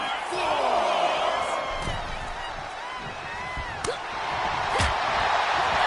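Wrestling arena crowd at a WWE event cheering for John Cena, a broad sustained roar with whoops and a few sharp thuds from the ring, heard loud and continuous beneath a commentator's voice.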